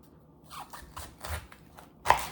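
A knife cuts the core out of a halved cabbage: a short run of quiet crisp crunching cuts and scrapes close up, ending in one sharper snap.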